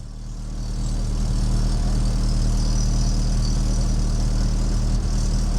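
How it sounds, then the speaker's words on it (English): A Rover 25 GTI engine, just fitted with new valves after a head gasket replacement, runs at a steady, loud, close idle with a low throbbing drone. It continues without pause and no voices are heard. "The car turns on."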